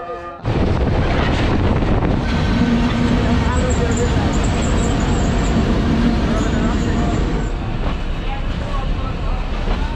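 Loud, steady rumble at Amnura junction where the Rajshahi commuter train stands, broad engine and wind-buffeted noise filling the whole stretch with a faint high whine over it.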